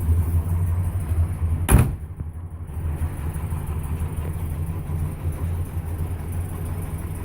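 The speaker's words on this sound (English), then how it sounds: "Just open the door here so you can see the side" A single sharp click from the door of a 1968 Dodge Monaco 500, a big-block car, stands out over a steady low hum, followed by a quieter passage.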